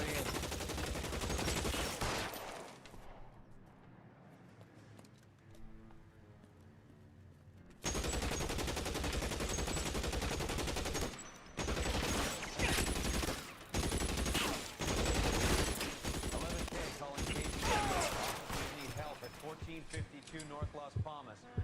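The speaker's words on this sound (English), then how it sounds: "Shots fired and officers need help at 1452 North Las Palmas." Gunshots ring out in a police video game, sharp repeated bursts and rapid volleys over a loud, busy mix, with a quieter stretch before the firing resumes; voices speak over the action.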